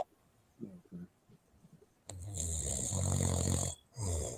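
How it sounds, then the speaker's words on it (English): A person snores loudly over a late-night voice call, two long, rasping snores rising after a few seconds of faint background sounds. "Yeah, someone's snoring, man. Someone's snoring."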